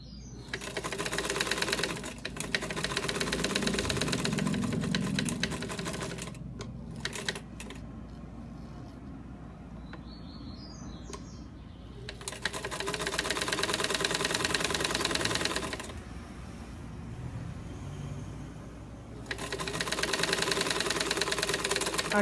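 A sewing machine stitches a fabric face mask in loud, steady bursts of several seconds, with pauses and softer handling between runs, including back-and-forth reinforcing passes; someone talks during the quieter gaps.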